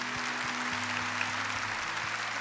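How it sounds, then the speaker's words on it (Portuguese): A church congregation applauds during a talk, a continuous soft wash of clapping heard from a distance over a low steady hum, with no voices. "Então palmas para você."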